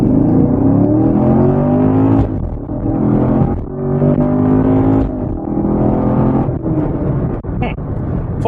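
6th-gen Chevrolet Camaro with manual transmission launching hard and accelerating, engine roaring loud and close with rising pitch that drops briefly at each no-lift gear change, several quick shifts in a row.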